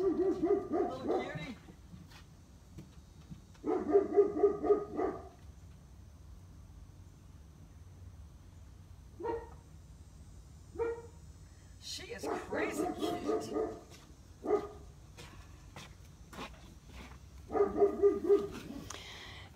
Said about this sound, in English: She said this dog is going to bark the whole time it's here.